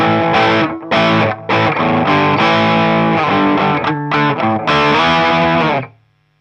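A distorted electric guitar plays a choppy, rhythmic riff, with loud chords broken by short stops, ending on a final ringing chord that fades out.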